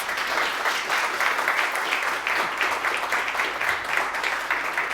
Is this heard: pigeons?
no